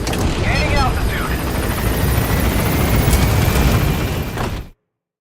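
P-Quad helicopter in Metal Gear Solid V climbing after an LZ pickup: steady, loud rotor chop and turbine roar fill the clip, with a faint voice briefly underneath, then it cuts to silence near the end.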